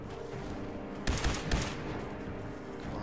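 Gunfire during the Mirelurk Queen boss fight at The Castle in Fallout 4, a couple of sharp shots cutting through dense, rumbling combat noise, no talk.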